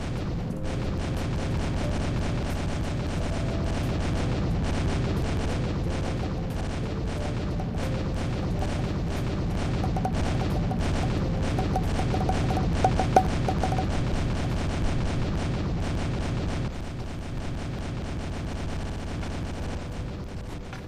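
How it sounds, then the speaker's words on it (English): A steady barrage of booming explosions from a bombing in the video game Road To Grambys and rapid gunfire, rumbling continuously with a few sharper cracks standing out. "That wasn't a good example of the bombing"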